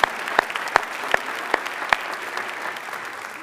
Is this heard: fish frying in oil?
no